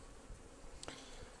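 A soft, steady buzz of bees taking syrup at a hive feeder hums under faint background noise, with a brief brighter click partway through.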